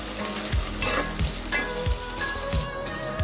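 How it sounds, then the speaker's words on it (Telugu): Green chillies, ginger and curry leaves frying in a pan for rice rava upma, a close sizzle broken by rhythmic scrapes of a spatula about every half second. "ఇదంతటిని యాడ్ చేసుకొని ఫ్రై అయ్యేంత వరకు ఇలా కలుపుతూ ఫ్రై చేసుకోవాలి"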